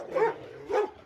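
Dogs at a tiger facility let out two sharp barks roughly half a second apart, close by and moderately loud, with quiet between them.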